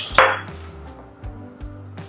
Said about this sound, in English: So I will mix my flour with my baking powder.